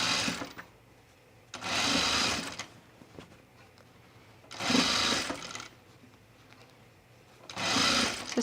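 A sewing machine stitches a gathered Sophie dress in three loud, steady runs of a few seconds each, separated by quiet pauses with faint handling noise.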